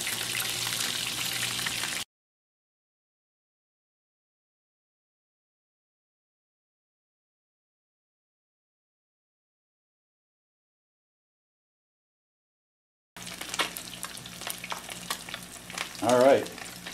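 Fillets of pan fish such as bluegills, crappies and perch fry in a pan, hissing at the start, then a long silent gap before the sizzle returns with brief stirring.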